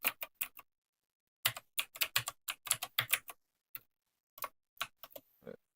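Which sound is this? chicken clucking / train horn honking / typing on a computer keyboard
typing on a computer keyboard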